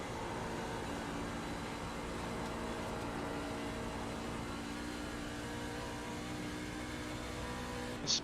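Racing truck engine held at full throttle in a NASCAR video game at Dover, a steady faint droning roar lasting throughout with no talk.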